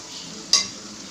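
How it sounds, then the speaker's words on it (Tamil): Onions sautéing in a pan: a soft background sizzle, broken halfway by a single sharp scrape or clack of a spoon stirring, with no voices. "இப்போ வெங்காயம் நல்லா வதங்கிடுச்சு"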